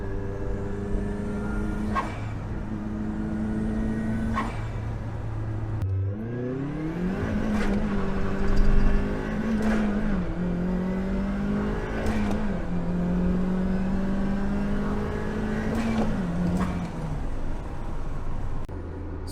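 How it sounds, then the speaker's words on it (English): A Mazdaspeed Miata engine revs up through several gears, pitch climbing and dropping with each shift, loud and close inside the cabin for the whole stretch. "those aren't the best examples of acceleration in this car"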